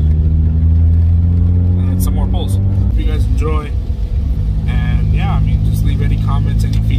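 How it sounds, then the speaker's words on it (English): A loud Toyota Corolla hatch with AMT stage 2 tuning idles with a heavy drone, then revs with sharp pops and bangs crackling over it, with voices talking at points. "some pulls, uh, some revving, some pops and bangs, some burbles"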